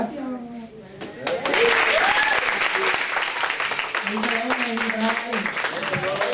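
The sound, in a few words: applause for the kids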